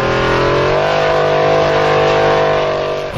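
A Formula Offroad car named Crash Hard revs its spare engine hard on a hillclimb at Stapafell, Iceland. The roar is loud and continuous, rising in pitch and holding strain for about three seconds, close by with no voices.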